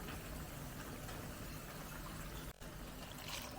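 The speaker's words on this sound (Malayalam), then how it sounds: "വെള്ളം ഒഴിക്കും" Water pours steadily into a cooking pot of fish curry, a close, continuous splashing trickle that runs unbroken apart from one brief dip, with no voices.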